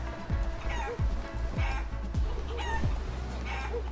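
Chickens cluck in the video game Guacamelee, with repeated short clucks and low thumps recurring in a steady rhythm over a busy game soundtrack.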